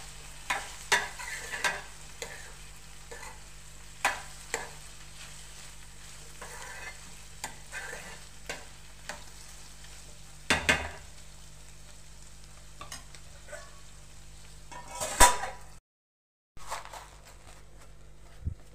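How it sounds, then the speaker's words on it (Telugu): Ivy gourd curry frying in oil is stirred with a spoon in a pan, giving repeated scraping strokes over a soft, steady sizzle, with a louder clatter near the end before a brief silence. "మనం నూనెలో మగ్గే వరకు కొంచెం మూత పెట్టుకొని మధ్యలో ఇట్లా కలుపుకుండాలండి."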